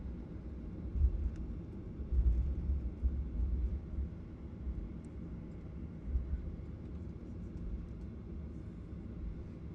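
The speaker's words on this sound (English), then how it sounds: "Just turning towards the runway now." Virgin Australia airliner taxiing at Brisbane, heard from inside the cabin as a low, steady rumble with faint engine drone and a few small thumps as it turns.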